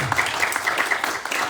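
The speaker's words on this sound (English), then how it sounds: "I want to give him a round of applause for it" Audience applause in a bookstore during a hometown novel writers' event, steady dense clapping filling the moment without speech.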